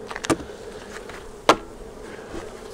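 Honeybees buzz steadily around an open hive box during a fall beekeeping check, a constant close drone with a couple of sharp knocks or clicks from handling the hive equipment.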